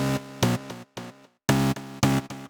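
Citrus Tree synth preset played in Cubase, short punchy bright chords in a choppy stuttering rhythm with brief gaps, loud and alone.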